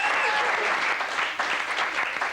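Brief burst of studio audience clapping on a quiz show, full and close, holding steady with a slight dip before carrying on to the end.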